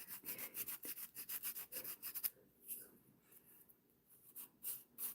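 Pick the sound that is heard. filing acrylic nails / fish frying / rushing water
filing acrylic nails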